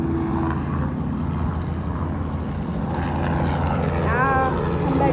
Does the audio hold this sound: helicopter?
yes